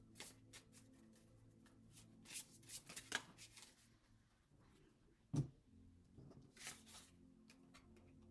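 Tarot cards being shuffled by hand, soft quick riffling and flicking bursts with papery slaps, close and quiet, with no talking.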